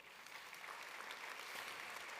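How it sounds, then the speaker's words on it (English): Applause from a gala audience at a business hall of fame ceremony forms a faint, distant, even wash of many hands clapping, continuous from start to end without speech. "How about a round of applause for them?"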